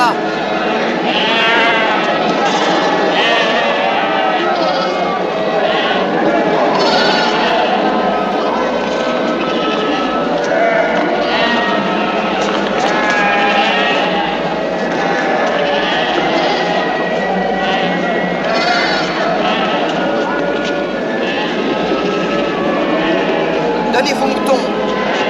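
Sheep bleating repeatedly in a flock, mixed with a crowd of voices talking and calling over a continuous busy background.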